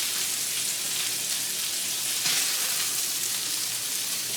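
Steady hissing sizzle of a hot pan after steak patties were fried and removed, fat crackling evenly and loudly throughout with a brief flare midway, no voices.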